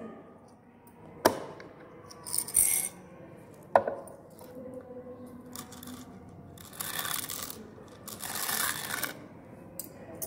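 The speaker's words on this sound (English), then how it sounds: "I am inserting all these colored beads in the hollow of these three mirrors." Colored glass beads are dropped into the hollow formed by three mirrors, giving a few sharp clinks and short rattling bursts of small pieces settling, separated by quiet pauses.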